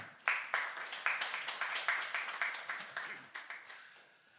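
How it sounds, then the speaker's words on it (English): Rhythmic clapping by a small group, sharp regular claps at a steady pace, moderately near and unaccompanied by talk. "Can we applaud one more time?"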